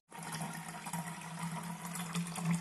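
Water runs from a household water filter into a container, a steady close splashing stream with a faint underlying hum that starts abruptly and continues evenly throughout.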